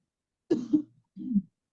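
A person gives two short, low coughs close by, the first a double hack and the second a single hack after a brief pause, in an otherwise quiet room.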